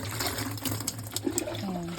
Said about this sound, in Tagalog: So, buhusan rin natin to para malinis.